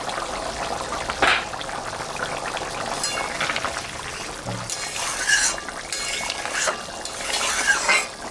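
Fish-head curry made with katla head simmers in a pot just after the lid is lifted, a soft continuous bubbling with occasional clinks of a utensil, moderately close, with no talking.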